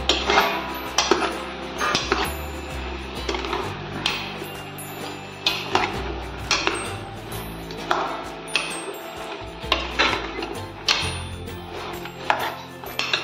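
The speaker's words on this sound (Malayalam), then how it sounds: "മഞ്ഞളും ഉപ്പും ഒക്കെ ഒന്ന്, ആ എണ്ണയും എല്ലാം ഒന്ന് പിടിക്കത്തക്ക രീതിയിൽ നമുക്ക് ഇതൊന്ന് ഇളക്കി കൊടുക്കണം" Spoon stirring turmeric, salt and oil in a pan while making aviyal, producing steady, close scraping and clinking strokes against the metal, repeated rhythmically throughout with no talk.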